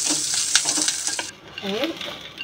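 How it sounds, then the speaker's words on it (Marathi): Garlic, sliced onion, poppy seeds and curry leaves dry-roast in a pan for a Mangalorean chicken masala: a steady close sizzle with spoon scrapes and stirring, briefly quieting before resuming. "लसूण, उभा चिरून घेतलेला कांदा सगळं आता भाजून घ्यायचं आहे।"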